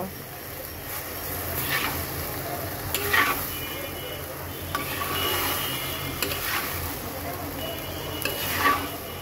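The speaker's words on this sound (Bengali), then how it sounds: "লবণটা দেওয়ার পর এইবার সুন্দর করে মিক্স করে দেব।" A banana flower and prawn curry, freshly salted, is stirred in a pan, giving soft scraping and scattered clinks of the spoon over a low sizzle, with a few sharper knocks through the stretch; no voices.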